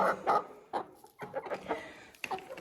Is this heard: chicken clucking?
yes